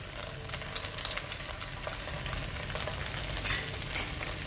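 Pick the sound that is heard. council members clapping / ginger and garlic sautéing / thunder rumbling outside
ginger and garlic sautéing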